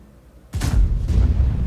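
A heavy artillery shell slams into a tank in World of Tanks, a sudden loud deep boom that rolls on into a rumbling, crackling aftermath with a second low thud about half a second later.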